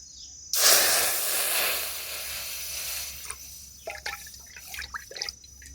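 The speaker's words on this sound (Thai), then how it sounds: "อย่างแรกเขาก็สิมาใส่น้ำยันนางพี่น้อง" Green yanang leaf juice poured into a pot on a stove for termite mushroom curry: a close, steady splashing pour lasting a couple of seconds, followed by scattered drips and small clinks.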